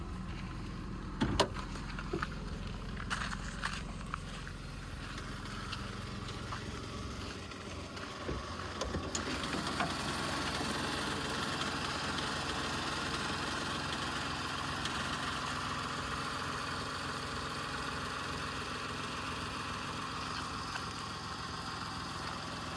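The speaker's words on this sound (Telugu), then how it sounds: "ఇంజన్ సౌండ్ కూడా చూడండి ఒకసారి." A 2016 Tata Tiago XZ engine with 86,000 km runs at a steady idle, a continuous low rumble with a brief mechanical clatter near the start, and no voices.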